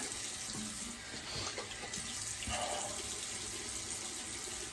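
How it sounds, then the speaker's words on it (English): Tap water runs steadily into a sink while a shaving brush is rinsed under a cool stream, a continuous close splashing hiss with no talking. "All right, quick cool rinse."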